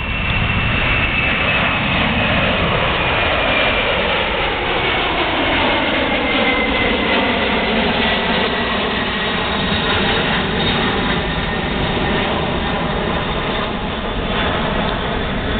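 A FedEx MD-11 jet departing Philadelphia airport, a loud sustained engine roar with a shifting whine as it climbs and passes, steady and continuous from start to finish.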